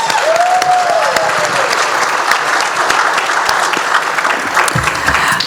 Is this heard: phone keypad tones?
no